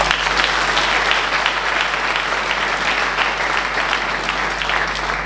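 Audience applause at the 2025 New Year ceremony in Viviers: a broad, continuous wash of many hands clapping at a steady level, moderately loud, over a faint low electrical hum.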